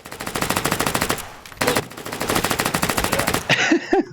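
PDW gunfire in the VR shooter H3VR: rapid full-auto bursts, a long string of close, loud shots, a short pause, then another sustained burst, ending in a few scattered shots and tonal game effects.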